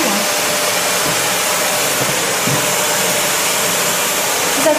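A vacuum cleaner runs in an apartment, a loud steady whooshing drone that holds constant from start to finish.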